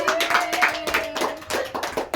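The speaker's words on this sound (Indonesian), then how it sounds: "Tepuk tangan." A group of people claps together during a group counselling session in a room, giving a short burst of quick, close, uneven hand claps.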